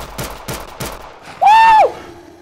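Gunfire in the SKER RITUAL zombie video game: three quick, evenly spaced shots, then a loud, sustained tonal whooshing effect that bends downward before fading.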